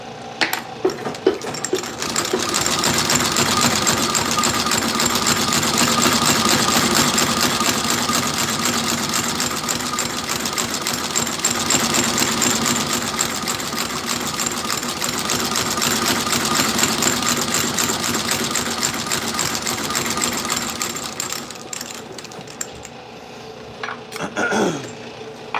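A boot-sole stitching machine sews new soles onto boots in a steady, loud mechanical run for about twenty seconds, then slows and stops near the end with a few handling clicks.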